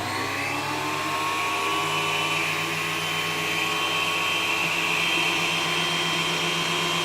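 A woodworking machine cuts timber with a loud, continuous high-pitched whine and steady motor hum, running evenly without pause and with no voices over it.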